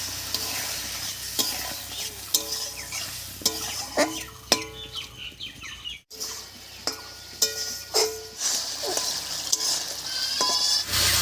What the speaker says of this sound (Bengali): মশলা বাটা জল দিয়ে আলুটাকে ভালো করে কষিয়ে নিয়েছি